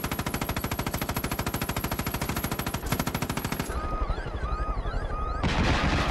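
Rapid automatic gunfire in the Far Cry 5 video game, a fast steady stream of shots followed by a shift to louder blasts and explosive bursts near the end, with no talk.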